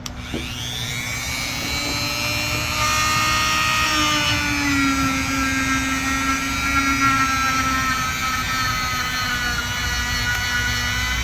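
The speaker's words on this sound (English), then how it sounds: "I'm only going to use my stainless wire brush on this one." A stainless steel wire brush, likely power-driven, cleans dust off a dug fossil with a steady high whine and gritty scraping that shifts in pitch as it works, loud and close, with no speech.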